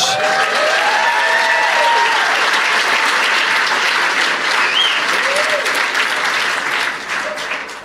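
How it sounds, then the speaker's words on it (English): A stand-up comedy crowd applauds for educators in the audience, a dense, sustained wash of many hands clapping that holds steady for several seconds before tapering slightly, with a few faint voices and whoops mixed in. "Clap for all these educators"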